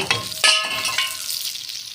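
Fish frying in a pan, Pakistani style, with a bright steady sizzle of hot oil and a few sharper spits and stirring bursts, close and fairly loud.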